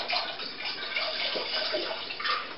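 Apple juice pours into a saucepan in a steady, close liquid rush with no talk, a brief continuous stream from a home winemaking setup.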